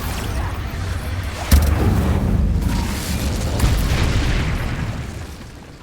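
The Incendio fire spell is cast in the video game Hogwarts Legacy, landing as one sudden booming burst followed by a long, roaring whoosh of flame that slowly fades.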